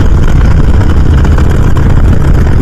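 A motorcycle engine runs close by with a loud, steady low rumble that holds evenly throughout.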